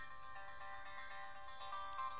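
A Bollywood song from Ek Tha Tiger playing through the music player of an LG Optimus L9 phone, a faint, thin sustained tonal melody with no talking.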